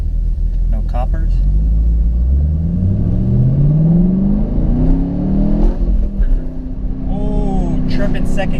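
A 2014 Chevy Camaro SS V8 accelerates hard through the gears, its engine note climbing in pitch, dropping at a shift, then climbing again, loud and close with a rumbling exhaust, and someone speaks briefly near the end.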